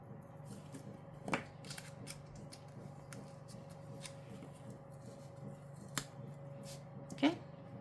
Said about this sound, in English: I'm going to trim it right here.